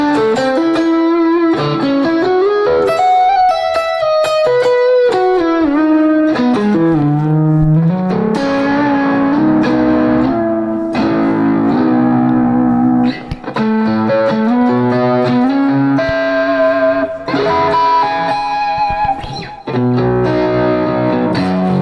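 An electric guitar plays a melodic line through Serum FX delay set for darker, mellower repeats, the soft echoes trailing behind each note. The loud, continuous passage runs for about twenty seconds.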